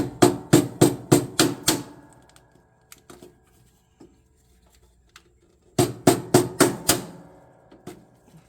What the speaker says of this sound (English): Get a little hammer and take those out.